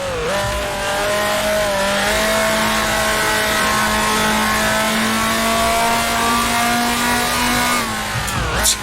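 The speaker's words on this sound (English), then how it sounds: "Driving the F2 cars around Rouen is quite awesome." A 1966 Formula 2 car howls around the Rouen circuit in Grand Prix Legends, engine pitch rising then holding a long loud sustained whine before dropping sharply as it lifts off near the end.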